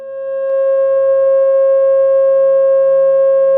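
A pure 540 Hz tone, associated with the pentagon, fades in over the first half second and then holds steady and loud with a few faint overtones, alone without speech.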